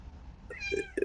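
A cat meows softly nearby, a few short rising calls in quick succession, faint and alone in a quiet room.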